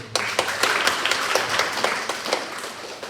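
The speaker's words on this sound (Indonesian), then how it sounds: "Tepuk tangan dulu." Audience clapping during a radiology lecture, a close, loud patter of individual claps with sharp hand hits standing out over the crowd.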